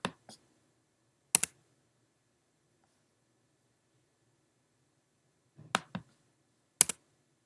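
Sharp, isolated computer keyboard key presses, likely the tab key, come in small clusters of one or two taps separated by long quiet gaps, close and crisp against a faint background hum.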